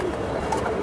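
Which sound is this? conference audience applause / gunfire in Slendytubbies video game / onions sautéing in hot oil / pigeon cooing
pigeon cooing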